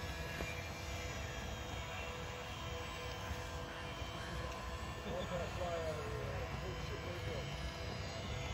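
A Grand Tundra RC airplane flies and comes in to land at a park, its faint buzzing motor carried under a constant wash of wind and outdoor noise, with the whine briefly rising midway.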